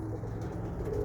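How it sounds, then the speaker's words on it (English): Roller pigeons coo softly and steadily in a loft, a low continuous murmur with no talking. "I got a few mason birds that's driving me crazy here"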